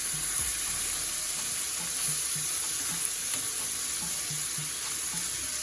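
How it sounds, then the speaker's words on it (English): Salt mackerel being folded into seasoning in a frying pan, with a steady bright hiss of sizzling oil and occasional soft scrapes of stirring, close and continuous. "you then gently fold in your mackerel with the seasoning"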